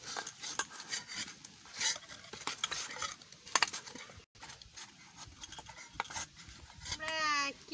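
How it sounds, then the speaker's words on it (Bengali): Nimki dough being kneaded by hand in a bowl, with soft repeated squishing and scraping in an uneven rhythm up close, and a brief voice near the end. "এটা একটু ভালো করে ছেনে নিই।"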